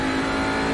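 Audi RS3 LMS TCR race car at Brands Hatch accelerating hard, a loud, steady engine drone held close and constant from an onboard position with no break.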